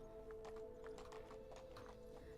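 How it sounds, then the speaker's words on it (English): A horse walks with a faint, steady clip-clop of hooves in the Medieval Dynasty video game. The regular hoofbeats sit over a low constant hum. "And then I will deliver Jack's horse back to him"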